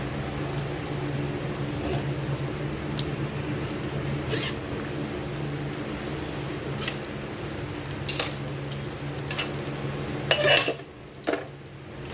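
Food fries in a pan for a simple home-cooked lunch, giving off a continuous close sizzle with occasional clinks and scrapes of a utensil against the pan.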